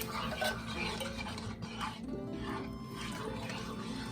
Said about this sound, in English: So we're just going to stir this chicken broth in.